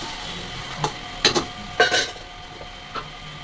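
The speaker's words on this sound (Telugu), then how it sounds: "కొంచెం టమాటో ఉడుకుతుంది కదా" Tomato cooking in a pan for pasta sauce, a low steady sizzle broken by a few sharp scraping stirs of a spoon against the pan, close and without talk.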